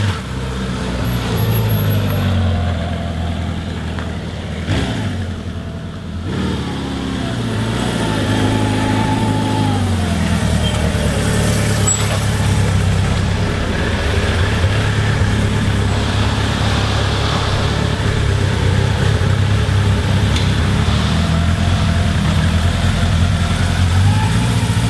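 1977 Honda CB750A Hondamatic motorcycle engine running close by, a steady loud throbbing idle with a brief rise and dip in revs early on, then an even rumble.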